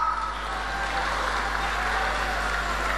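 Audience applause at a Berik Tursynbekov show in Shymkent: dense, even clapping from a crowd that holds a constant level for the whole stretch, with a low electrical hum beneath it.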